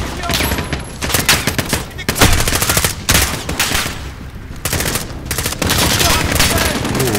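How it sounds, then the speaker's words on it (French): Dense suppressing gunfire in Call of Duty Modern Warfare, loud overlapping bursts of automatic fire with irregular gaps, continuous and close throughout. "Tire de suppression."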